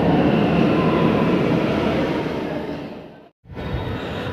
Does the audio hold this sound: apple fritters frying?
no